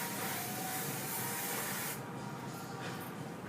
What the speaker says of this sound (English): And then you want to give it a good hairspray